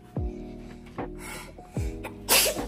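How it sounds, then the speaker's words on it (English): A single sharp sneeze bursts out close by near the end, after a few short breathy sounds. "Bless you."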